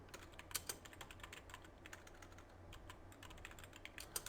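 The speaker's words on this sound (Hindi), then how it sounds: "अब यहाँ पे मैं कुछ टेक्स्ट टाइप कर लेता हूँ।" Keystrokes on a computer keyboard while text is entered into a blank MS Word 2019 document, a steady run of quick, fairly close clicks with brief pauses and a few harder taps, no talking.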